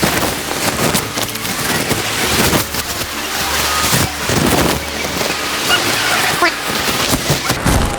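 Heavy rain pours outdoors near a mountain suspension bridge, a loud dense wash of noise with wind buffeting the microphone and occasional heavier gusts throughout.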